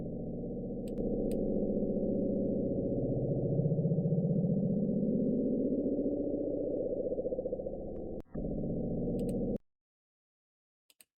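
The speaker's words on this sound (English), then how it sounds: "Wait, how does the bloop sound like?" Recording of the Bloop, a mysterious underwater sound: a steady, loud low rumbling drone lasting about nine seconds, with a slowly rising, sweeping tone inside it, cutting off abruptly into silence.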